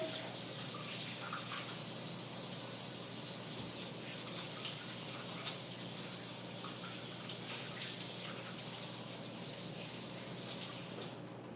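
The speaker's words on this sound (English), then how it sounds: "Get my hands washed up right quick again" Hands rinsed under a running kitchen tap in a home kitchen while cooking, a steady, fairly faint stream of water splashing without pause.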